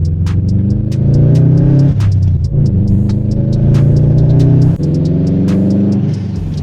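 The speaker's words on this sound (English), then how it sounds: "Hear that engine? It sounds so amazing." A 2015 Subaru WRX STI Launch Edition engine drones loud and close as it climbs through the revs, its pitch dropping twice at gear shifts, with faint ticking clicks over the steady rumble.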